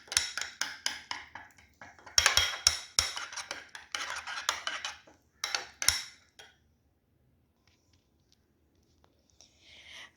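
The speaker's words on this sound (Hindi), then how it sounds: "दही के अंदर इसको फेंट लेंगे इस तरह।" A spoon or whisk beats a mix of spices into yogurt in a bowl for a beef pasanda, giving fast rhythmic wet clinks and scrapes that are loud and close for about six seconds, then stop.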